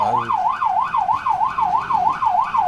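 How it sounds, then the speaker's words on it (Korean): A fire engine's wailing siren rises and falls in a steady rapid cycle, loud and close, while the truck rushes out to a fire call through traffic. "사이렌이 울리고 계속 방송으로 비켜달라고 하고 있는 상황에서도"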